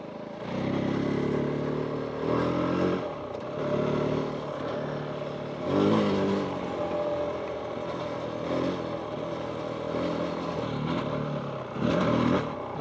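A KOVE 450 Rally adventure motorcycle being ridden, its single engine revving up and easing off in repeated surges over several seconds, moderately loud and close, with wind noise and no speech.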